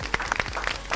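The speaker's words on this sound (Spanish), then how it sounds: "¿te parece que le demos un aplauso?" A few scattered claps from an audience welcoming a speaker to a lecture, sparse and brief, with distinct individual hand claps close by.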